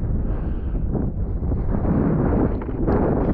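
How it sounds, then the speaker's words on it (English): Strong wind buffeting the microphone on an open fell in the Lake District hills, a steady loud roar with gusting rumble throughout. "so the wind's too bad"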